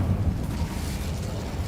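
An Incendio fire spell in the Hogwarts Legacy video game erupts as a low, rumbling whoosh of flame, loud at first and then settling into a steady roar with no talking.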